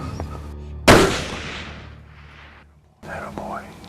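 A single loud hunting rifle shot fired at game, a sharp crack near 0.9 s with a long rolling echo fading over about two seconds, followed by faint whispered voices.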